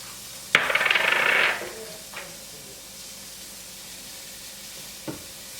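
Sliced onions hit a hot pan while cooking shrimp fra diavolo, setting off a sudden loud sizzle that hisses for about a second before dying down, followed by quiet background with a couple of faint clinks.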